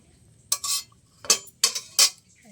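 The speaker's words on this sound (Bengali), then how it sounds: "এই যে এরকম করে ভালো করে জলটা ঝরিয়ে নেব।" A slotted metal ladle clinks and scrapes against a cooking pot while water is drained from boiled jackfruit seeds. There are four sharp, close strikes spaced across a couple of seconds, with no talk.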